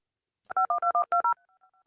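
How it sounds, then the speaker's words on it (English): A telephone line sounds a quick run of eight loud dual-tone keypad beeps in an even rhythm, then settles into a faint, steady low tone pair that hums on alone. "Oh, you were hearing the dial tone"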